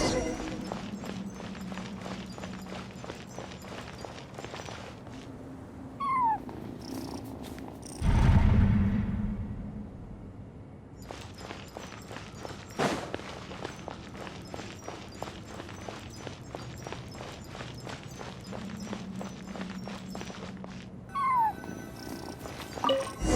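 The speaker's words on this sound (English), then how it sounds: "I followed the cat's cries to find my way out." A cat in the video game Genshin Impact meows and cries repeatedly inside explored ruins, over a steady purring, clicking texture with occasional footsteps and a brief low rumble partway through.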